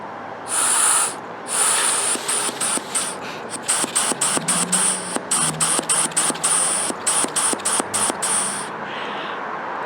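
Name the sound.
air blown by mouth through car EVAP purge valve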